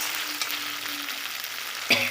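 Ground spice paste with green chillies sautéing in hot oil for a Bengali oil koi fish curry, a steady soft sizzle with a brief louder stir near the end.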